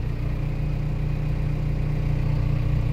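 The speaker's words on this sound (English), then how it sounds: "running the John Deere 650 dozer" A John Deere 650 dozer engine runs continuously, a steady close diesel drone with a pulsing low throb and no pauses, heard alone.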